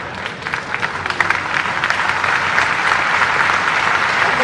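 A crowd at a Madhya Pradesh political address applauds steadily, a continuous wash of many hands clapping that holds at a fairly loud, even level throughout.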